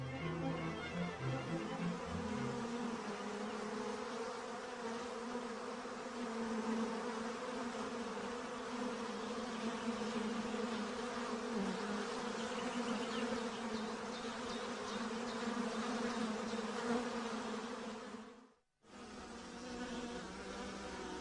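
A dense swarm of honeybees clustered tightly together for warmth hums continuously, a steady droning buzz that drops out for a moment near the end before returning.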